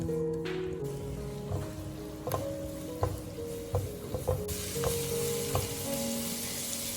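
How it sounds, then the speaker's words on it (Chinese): Minced ginger and scallion whites stir-fried over low heat in a little hot oil in a wok: a steady sizzle under intermittent scraping of a spatula and light clicks against the pan, with no talking. "油微热的时候下入姜末和葱白，开小火煸炒出香味"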